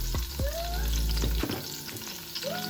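Onion and garlic frying in a few spoons of vegetable oil for Guyanese channa, a close, loud steady sizzle with a few stirring scrapes of the utensil in the pan.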